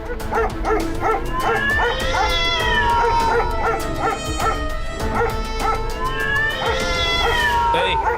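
Cartoon cats meow and caterwaul loudly in rapid succession, yowling calls stacking over one another, with dog-like yips mixed in.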